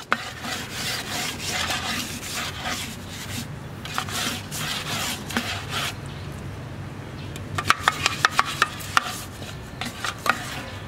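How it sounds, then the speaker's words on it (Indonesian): A brush spreads lubricant inside a concrete cylinder mold, making repeated scraping, rubbing strokes with sharp scratchy ticks; no one speaks. "Langsung saja kita akan lumasi menggunakan kuas. Pastikan semua bagian merata."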